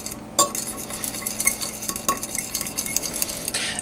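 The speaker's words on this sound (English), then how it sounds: "And 2 teaspoons of vanilla. And go ahead and whisk this up here." Cake batter with cinnamon and vanilla is whisked in a bowl, the utensil rapping and scraping in quick irregular strokes, close up and fairly loud, with no talk.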